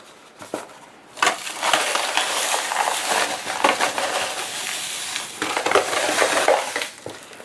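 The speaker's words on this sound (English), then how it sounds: "let's put in the Epsom salts" Epsom salts poured into a container for a Dollar Tree checkered Christmas craft: a dense granular rushing and crunching, close and fairly loud, lasting several seconds with brief pauses, no voices.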